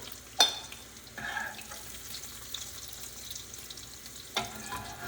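Beef for boeuf bourguignon sautéing in a pan, heard as a soft, low sizzle with a few sharp clinks and brief utensil movements, quiet and close, without speech.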